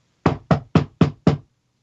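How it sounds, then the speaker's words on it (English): Five sharp knocks on a door, played as a sound effect during a tabletop RPG session, evenly spaced and loud, with no talking. "and then knock on the door"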